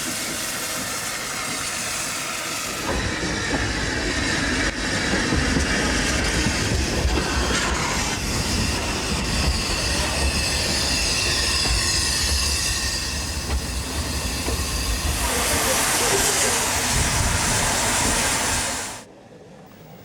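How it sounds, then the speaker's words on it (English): A Festiniog Light Railway train runs along the narrow-gauge track in Wales, with steady loud rolling, clattering wheels and rail noise building through most of the run, then cutting off sharply near the end. "the Festiniog Light Railway runs from Festiniog down to Porthmadog"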